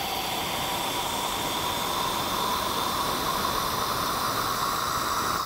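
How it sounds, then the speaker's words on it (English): Hot, steaming water hisses steadily out of an espresso machine's hot water spout into a frothing pitcher, a constant close broadband rush with a faint whine, no talking. "I'll just put some hot water in a frothing pitcher"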